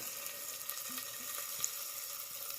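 Curry leaves added to hot oil with reddened fried onion, cooking poha in a village kitchen, give a steady, faint, broadband sizzle that holds evenly throughout with no talk.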